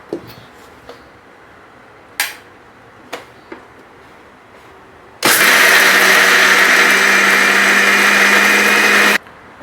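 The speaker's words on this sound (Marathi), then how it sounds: "आता मी ती मिक्सरमधून वाटून घेते, मिक्सरमध्ये टाकून वाटून घेते" A mixer grinder grinds soaked jowar with water, roaring loudly and steadily for about four seconds after a few light clicks and knocks as the jar is set up.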